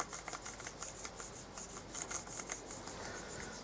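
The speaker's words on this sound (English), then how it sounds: "sharp blade. This is a Stanley knife blade. And basically you run it over the top." A Stanley knife blade is drawn flat across a Lexmoto ZSX 125 motorcycle fork to strip off loose, pitted chrome, giving faint, close, rhythmic rasping scrapes in quick repeated strokes with no talking.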